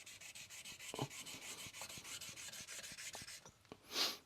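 Polish being scraped onto a straight razor in a rhythmic series of quick rasping strokes, close and quiet, ending in a short louder rub.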